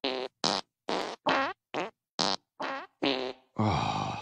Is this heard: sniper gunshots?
no